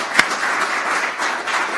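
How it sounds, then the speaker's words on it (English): A politics panel audience applauds, dense steady clapping that fills the whole moment, opening with one sharp clap close by. "So I have a round of applause for everyone."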